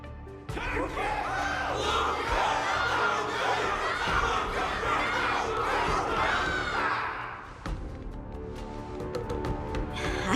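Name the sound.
crowd cheering in video game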